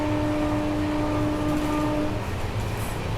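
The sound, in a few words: Naharlagun Guwahati Shatabdi Express train running at speed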